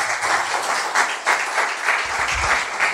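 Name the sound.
congregation applauding in church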